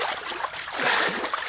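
A trapped raccoon gets washed in a creek bed, water splashing and trickling steadily with hissy, churning movement close by and no voices.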